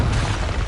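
A Confringo fiery explosion spell from the Hogwarts Legacy video game on PS5, one brief, loud, full-bodied boom filling the whole moment.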